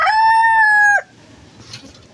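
A rooster gives one loud, close crow for about a second. A low rush of windy storm noise with faint rustling follows after it.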